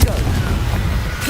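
A Confringo fire spell blasts off in Hogwarts Legacy, a dense, rumbling burst that opens with a low boom and rolls on steadily for over a second.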